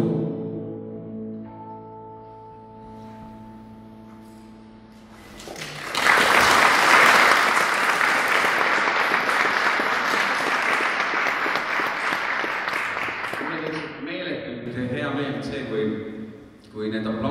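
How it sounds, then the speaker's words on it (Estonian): A charity concert in Tõrva: after soft music and talk, the audience bursts into sustained, loud applause that carries for several seconds, fading slightly at the end as a voice returns. "Suurem aplaus tehke tema auks"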